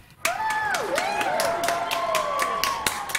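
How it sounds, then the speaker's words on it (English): Crowd cheering and clapping at a toy fashion show, a burst of applause kicking in abruptly with sharp repeated claps, while whistling or squealing voice-like tones sweep over it near and fairly loud. "Everybody's cheering just like last time."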